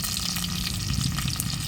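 Vadagam, coriander and curry leaves fry in hot oil for a village-style kavalai fish curry, making a loud, dense, crackling sizzle that runs continuously with no voices.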